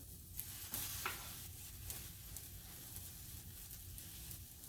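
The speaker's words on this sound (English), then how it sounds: "So I'm going to put my asparagus in." Asparagus drops into a hot stir-fry pan for a Southern stir fry, giving a soft, steady sizzle that stays faint and even throughout, with no voices.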